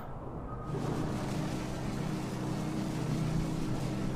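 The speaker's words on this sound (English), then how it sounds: "The sound of the water." Continuous rushing, churning water with a low engine-like drone underneath, steady and fairly loud throughout, from the sinking of the Britannic in a VR game.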